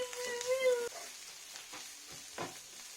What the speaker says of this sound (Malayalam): നമുക്കിതിലേക്ക് ചോപ്പ് ചെയ്ത് വെച്ചിട്ടുള്ള ഇലകളും കൂടി ആഡ് ചെയ്തിട്ട് നന്നായി ഒന്ന് മിക്സ് ചെയ്തിട്ട് അടച്ചു വെച്ച് വേവിക്കാം